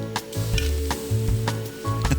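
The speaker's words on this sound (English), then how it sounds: "Add to the pan, stir well, simmer on a gentle heat, stir and serve." Food simmers in a small camping pan at a wild winter camp in a Scottish forest, giving a close, steady sizzle broken by a few quick scrapes of a spoon and low rumbling bursts.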